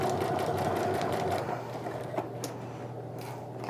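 Sewing machine slowly stitching thick seams of a sling bag, a close steady mechanical whir with fine rapid ticking that eases slightly after the first second and a half.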